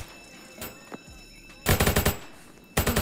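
Gunfire in the Roblox Jailbreak video game comes as a couple of single shots followed by two rapid bursts of loud automatic fire.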